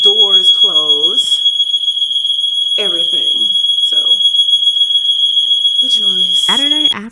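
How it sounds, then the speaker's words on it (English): An apartment building's smoke alarm shrills loud and continuous, a piercing steady tone, while someone talks over it in short bursts. "then the whole entire building's alarm system starts to go off"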